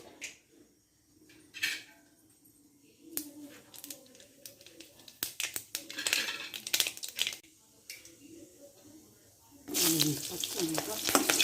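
Mustard seeds in hot coconut oil crackle and pop in irregular bursts, with a denser sizzle near the end; a voice speaks at times between the pops.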